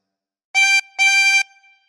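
Harmonica with two separate blown notes on the same hole, each a bright reedy tone held briefly, close and clear against silence.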